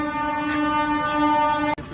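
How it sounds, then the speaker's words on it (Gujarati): A train bound for Visakhapatnam sounds a loud, sustained, tonal horn close by. The blast holds steady for nearly two seconds, then cuts off abruptly, and a faint rumble remains. "આ કઈ ટ્રેન આવી છે"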